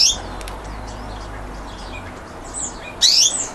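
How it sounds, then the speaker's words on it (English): A white budgie gives a few high, sharp chirps, one at the start and a louder burst near the end, over a low steady background hum. "I can't believe I've got a bright white budgie."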